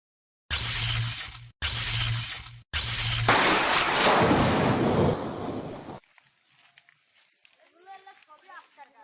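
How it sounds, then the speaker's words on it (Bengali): Thunder from a lightning storm in a horror film: two sharp cracks, then a long crashing roll that rumbles for a few seconds. The thunder cuts off abruptly and quiet speech follows. "এই আকাশে খুব বিদ্যুৎ চমকাচ্ছে।"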